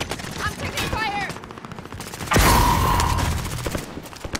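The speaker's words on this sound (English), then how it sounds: "I'm taking fire." Gunfire in a sniper shooter video game: rapid automatic bursts rattle close and loud, with a heavier burst midway amid game sounds and brief electronic tones.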